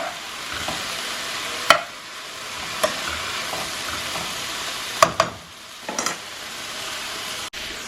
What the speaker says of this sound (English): I'm going to stir this up and let this cook down